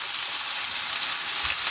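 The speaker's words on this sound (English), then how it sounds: "I'm loving the sound of that sizzle." Steady, dense crackling sizzle of burger patties frying on a hot griddle, continuous and close with no talking.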